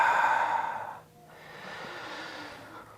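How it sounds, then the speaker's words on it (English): A long, soft exhale through the mouth during a slow yoga twist practice, a close breathy whoosh that fades out, followed by a quieter, gentler breath with no talking. "Exhale out your mouth."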